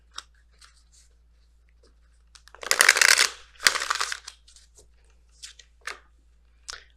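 A deck of Messenger Oracle cards is shuffled in two quick, crisp riffling bursts, surrounded by faint ticks and taps of the cards being handled in a quiet room.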